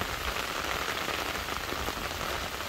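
Steady rain patters densely and evenly on surfaces outdoors, a constant soft hiss of drops throughout.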